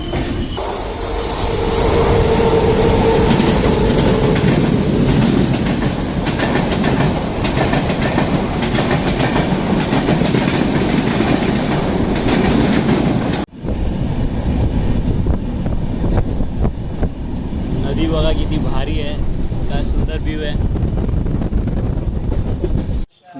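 A Konkan Railway passenger train runs along the tracks with a loud, steady rumble and rattle that dips briefly midway, then continues close and unbroken.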